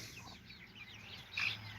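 Backyard hens and chicks at breakfast time, heard as soft, fairly distant clucking and murmuring, with one brief louder call near the end.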